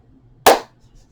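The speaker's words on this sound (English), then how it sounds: "Clap the hands." A single sharp, close hand clap during a seated chair yoga session, loud and brief, standing alone against a quiet room.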